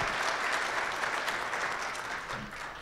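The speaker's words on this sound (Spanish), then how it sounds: "Por favor, un aplauso para Jaime" Seminar audience at a poultry science conference in Quito applauding steadily, a dense wash of many hands clapping close by with no talk over it.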